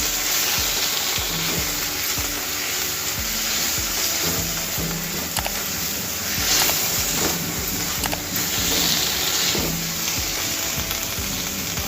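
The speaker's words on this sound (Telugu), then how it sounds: "ఒక 1/2 నిమిషం పాటు మన టమాటాలను ఉడికించుకున్నాము" Tomatoes frying in a pan with salt for an aloo matar pulao, giving a steady, close, continuous sizzle with occasional soft stirring scrapes throughout, no voices.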